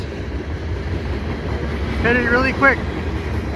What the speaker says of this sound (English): here's a eastbound freight